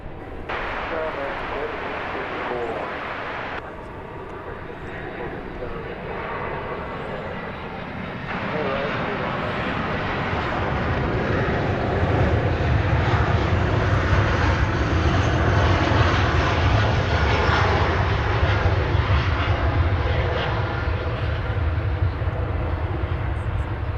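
An American Airlines airliner passes at Dallas Fort Worth airport, its engine roar swelling from moderate to loud and holding as a deep, sustained rumble, with people talking alongside.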